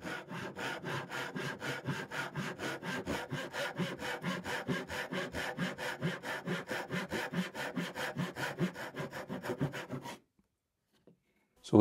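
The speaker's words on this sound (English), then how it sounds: "I'm going to be using the Dazuki saw. This is a very fine Japanese saw." A fine Japanese dozuki saw with a thin blade cuts through wood in quick, even push strokes, a close rasping rhythm that runs for about ten seconds and then stops abruptly.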